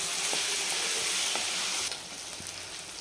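Salted mutton sautés in a pan with a loud, steady close sizzle that suddenly drops to a softer hiss partway through, along with faint stirring knocks and no talking.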